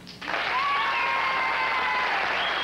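A television studio audience applauds during an on-air poll for presidential candidate John Anderson, a sudden burst of even, sustained clapping that holds steady at a moderate level for a couple of seconds.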